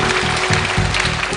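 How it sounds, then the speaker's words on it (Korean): Steady crowd applause from a lecture audience, a dense broadband patter of many hands clapping without pause, fairly loud throughout. "박수 부탁드리겠습니다"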